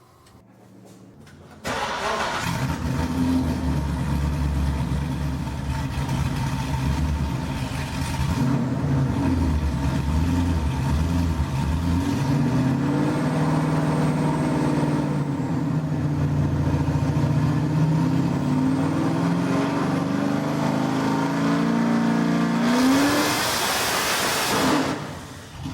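A Corvette making over 1300 wheel horsepower cranks and fires on a Dynojet dyno. It settles into a loud, close, sustained engine drone whose pitch climbs gradually for about twenty seconds, then it cuts off abruptly.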